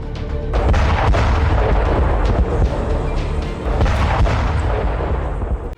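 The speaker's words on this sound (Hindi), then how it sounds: "पुतिन की पलटन धमाके भी कर रही है।" Continuous heavy rumbling with repeated deep booms and sharp cracks from Russian missile strikes on Kyiv, like distant explosions and artillery fire, loud and sustained throughout.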